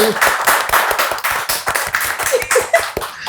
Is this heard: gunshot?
no